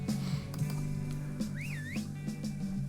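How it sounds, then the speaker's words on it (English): A short two-note rising and falling whistle from a character in the Resident Evil 4 video game, sounding once mid-clip over a steady low game music bed. "He whistled."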